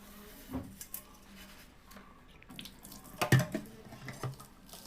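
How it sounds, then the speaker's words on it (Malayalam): A pot for making tea is rinsed with running water in a sink, with close splashing and trickling and a couple of sharper bursts and metallic knocks as it is handled. "ചായക്ക് വെള്ളം വെക്കാനുള്ള പാത്രം ഒന്ന് കഴുകി എടുത്തിട്ടുണ്ട്"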